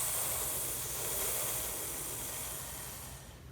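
A voice imitates the steady whispering spray of a lawn sprinkler: one soft, continuous hiss lasting a few seconds that fades slightly at the end.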